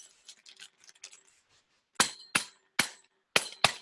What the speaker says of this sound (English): put 4 forks in a plastic bag, fold it in half,